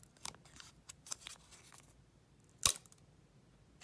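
Fiskars craft scissors snip through a piece of cured, brittle UV resin, giving several short, crisp cuts and one loud sharp snap near the end, close up with no talking.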